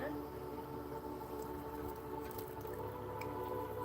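Water runs steadily from a hose with a constant hiss and faint dripping, voices murmuring nearby.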